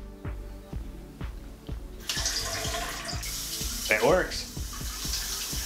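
A hot-water Tushy bidet sprays a steady, hissing stream at high pressure that rises louder partway through. A person speaks briefly over the rushing water, and faint rhythmic ticks run underneath.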